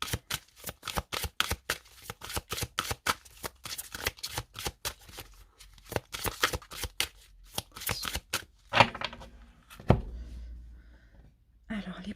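Tarot cards are shuffled in quick riffling bursts close to the microphone, then the deck is cut with a few soft slaps, while someone talks quietly in French throughout.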